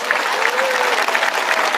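A crowd claps during a religious sermon. The applause is loud, brief and continuous, and a faint voice rises above it for a moment.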